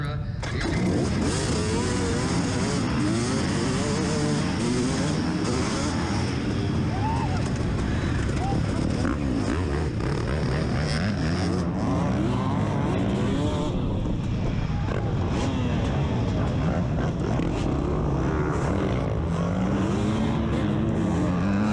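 Dirt bike engines roar together at the GNCC Big Buck off-road race, a loud, sustained pack of revving two-stroke and four-stroke motors with shifting pitch, while a commentator talks over the noise.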